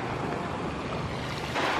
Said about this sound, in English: Like the sound of the water, just wow.